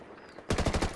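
Sudden burst of rapid automatic gunfire in Ghost Recon Breakpoint's Ghost War mode, loud and close, cutting in after half a second of quiet background ambience.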